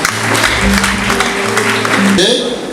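Guests at a wedding celebration applaud with dense, continuous clapping that lasts a few seconds and ends abruptly, with sustained musical tones running underneath.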